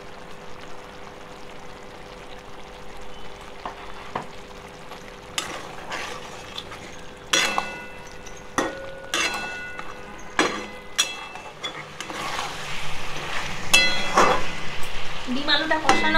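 Egg and potato sautéed in a pan with biryani spice, giving a soft steady sizzle broken by scattered sharp clinks and scrapes of a utensil stirring against the pan, growing busier toward the end.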